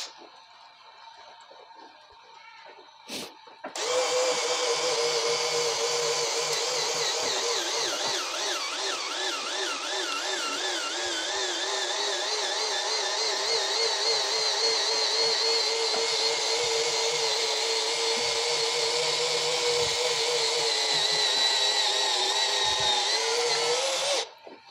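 A Makita HP488D cordless impact drill runs at speed 1, a loud steady whirring motor whine that starts after a few seconds of near silence, holds for about twenty seconds with slight wavering, and then cuts off.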